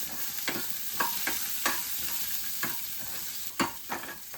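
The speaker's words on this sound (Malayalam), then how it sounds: "ഇളക്കിക്കൊടുക്കും." Sliced okra fries in oil in a pan while a spoon stirs it, a continuous soft sizzle broken by about eight sharp scraping clinks at irregular intervals, close up with no talking.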